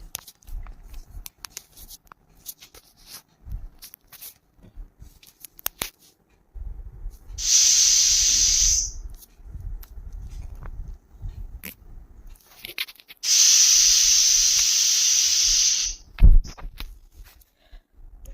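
A pressure cooker cooking mutton curry with chana dal lets out two long, sharp bursts of steam hiss, separated by quieter clicks and rattles, close and fairly loud.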